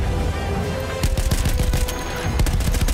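In Battlefield 1, set in the Alps, bursts of rapid gunfire crackle over a steady game backdrop, with sharp volleys in the second half and no talking.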